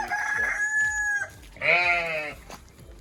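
Chickens and a rooster at a poultry farm with basic laying hens, two loud, drawn-out crows close by over soft background clucking.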